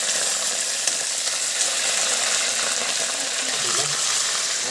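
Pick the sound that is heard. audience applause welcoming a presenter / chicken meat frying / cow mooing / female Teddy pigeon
chicken meat frying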